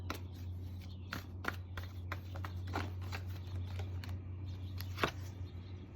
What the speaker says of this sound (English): you put it to the deck while I shuffle